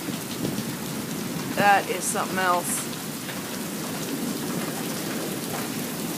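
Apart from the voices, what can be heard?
thunderstorm with heavy rain at night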